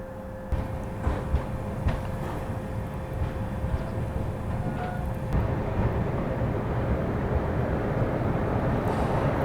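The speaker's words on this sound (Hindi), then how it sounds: "अपनी कैफियत एक्सप्रेस निकल चुकी है टुवर्ड्स ऐशबाग जंक्शन की ओर" Kaifiyaat SF Express, train 12226, pulling out toward Aishbagh Junction on a foggy day, a steady low rumble of wheels and engine that builds slightly as it departs, with a faint sustained horn-like tone running through.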